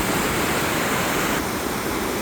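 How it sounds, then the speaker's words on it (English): A river with waterfalls beside a short trail near a cruise ship port in Alaska gives a steady, close, full rushing roar that holds even and unbroken throughout, with no voices. "We come upon this river. Waterfalls up in the background on each side."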